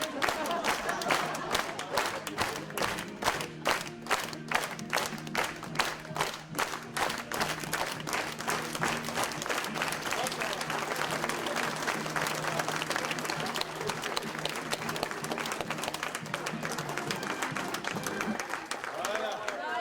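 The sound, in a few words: audience applause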